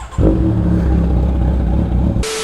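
A Kawasaki Z900 motorcycle engine cranks and catches into a loud, close, deep rumbling idle, followed by a sudden hiss of wind or noise at the end.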